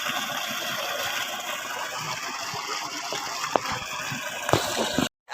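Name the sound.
water gushing from pump after 5 HP motor rewinding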